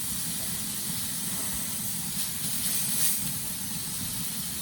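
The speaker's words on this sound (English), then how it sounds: "Hear that sizzle?" Roast beef sears in a hot pan with a steady, broadband sizzling hiss that continues without a break, close up, with a low rumble of cooktop noise beneath it and no talking.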